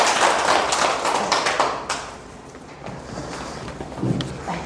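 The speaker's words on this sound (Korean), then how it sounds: "네, 박수." Applause for a lecturer, a hospital director, from an audience of elderly people at a family support centre talk, steady clapping for about two seconds that thins to scattered taps.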